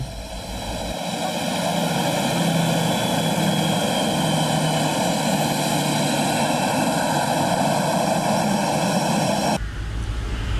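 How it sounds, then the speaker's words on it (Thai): A royal aircraft's engines run steadily and loudly up close before departure for Bangkok, a sustained propeller drone with a strong even hum that continues for nearly ten seconds, then cuts off abruptly near the end. "ก่อนประทับเครื่องบินพระที่นั่ง เสด็จพระราชดำเนินกลับกรุงเทพมหานคร"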